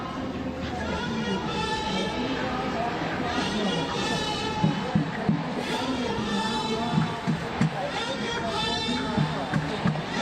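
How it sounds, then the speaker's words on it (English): A large protest march against ICE fills downtown Minneapolis streets, a dense, steady murmur of many voices and footsteps with nearby talking. "Huge crowd here."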